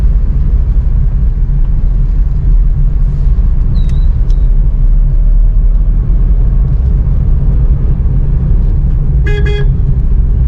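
A car moves through a jam in second gear on a busy road. A steady, loud engine rumble fills the scene, one short horn toot sounds from nearby traffic, and a sharper honk cuts in near the end.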